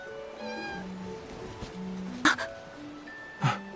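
An injured cat gives two short, sharp meows, close and distinct, over a quiet background with sustained tonal music-like notes.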